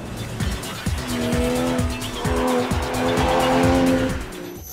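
Tires on a powerful sports car fitted with Continental SportContact 6 tires squeal through cornering and braking, giving repeated high-pitched screeches in short bursts over a revving engine, loud and close, with no one talking.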